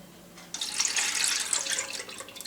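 Strained jam liquid poured back into a jam pan, a steady close splashing stream that starts abruptly and runs for about two seconds.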